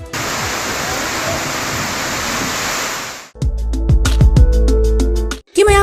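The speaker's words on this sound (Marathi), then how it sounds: "सोलापुरातील होडगी परिसरात आज झाला दमदार पाऊस" Heavy rain pours down in the Hodgi area of Solapur, a dense, steady loud roar for about three seconds before a cut to a louder, broader wash of sound with sharp knocks.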